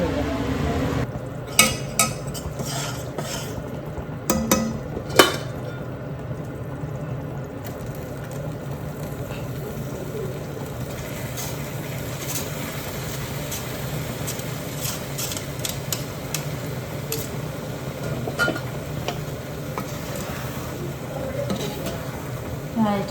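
Dal is stirred into melted jaggery with cardamom powder in a pan, with soft scraping and clinking spoon strokes and a few sharper knocks over a faint sizzle and background hum.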